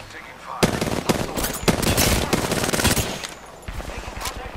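Video game gunfire erupts in dense, rapid automatic bursts, loud and close, with short sharp single shots breaking through a steady rattling stream.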